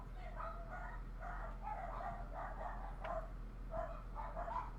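Dog barking plays as a tabletop game sound effect, a series of repeated barks and yips in steady bursts across the clip, moderately loud, with a low hum and background ambience.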